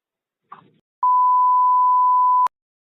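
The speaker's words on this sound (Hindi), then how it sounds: "अभी इसको मैं फोन को कट कर देता हूँ" A phone call cut off ends with a single steady beep tone held for about a second and a half, clean and loud, closing with a sharp click after a brief faint rustle.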